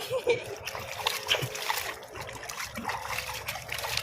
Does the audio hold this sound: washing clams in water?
yes